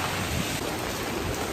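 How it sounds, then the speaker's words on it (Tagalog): Steady, ordinary rain pours down outside a temple in Taiwan during the rainy season, a dense, even hiss of drops that stays loud and unbroken throughout, with no voices over it. "Asang ulan."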